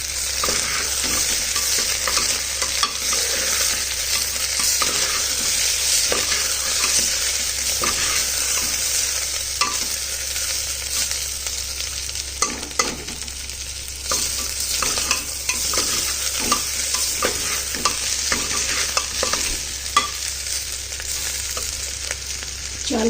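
Rice grains are fried and stirred in a pan, giving a steady sizzling hiss with frequent scraping and clinking strokes of a spoon, close and moderately loud, with no voices.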